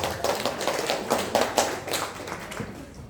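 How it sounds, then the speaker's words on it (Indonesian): Scattered, moderately close hand clapping from an audience at a university hall event held with the election supervisory body, a thin, uneven patter of claps lasting about three seconds without anyone speaking. "Marilah kita beri tepuk tangan sekali lagi untuk Bapak Rektor."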